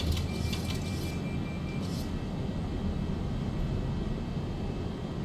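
Simulated Boeing 737-800 in X-Plane 11 on a flight from Denver to Phoenix, giving a steady, loud, broadband cabin and engine roar with a faint tonal whine and a few brief clicks near the start.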